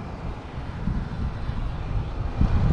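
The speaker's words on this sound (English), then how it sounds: "Nice wind, huh?" Wind buffeting a microphone outdoors on a suspension bridge over a valley, a continuous low rumbling roar that swells and gusts louder near the end, with no voices.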